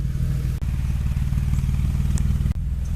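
BMW M3 engine idling through the exhaust taken from a 328, a loud close steady burbling rumble with an even pulsing beat and a couple of brief dips, no talking.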